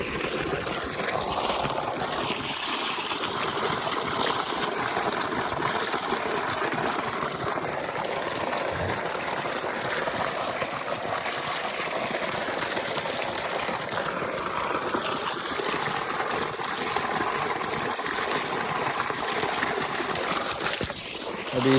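Water runs continuously at a village bathing spot, a steady rushing wash that holds an even level throughout with no talking over it.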